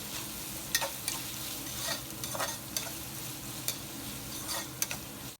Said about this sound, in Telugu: మనకి మునక్కాయ మంచిగా ఆయిల్లో ఫ్రై అయింది